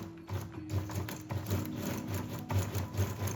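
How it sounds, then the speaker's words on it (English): A sewing machine stitches the narrow edges of a fabric ruffle piece together, a close, steady rapid rhythmic clatter with faint whirring, running alone throughout. "Sew the narrow edges together."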